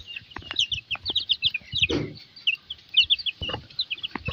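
A native hen and her chicks clucking close by, with rapid high peeping chirps from the chicks over repeated low clucks from the hen, one louder burst midway, and no talk.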